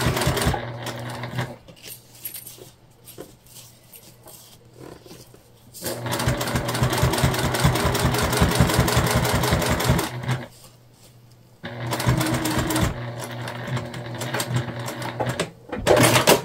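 A sewing machine runs a long baste stitch down the sides of fabric, starting and stopping in bursts of fast, steady mechanical rattling, close and loud, with quieter pauses between runs.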